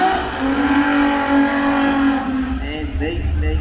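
Charlie Dixon's Monaro drag car howls at a drag challenge, its engine note holding high and then dropping as it pulls away, with a commentator's voice over the roar.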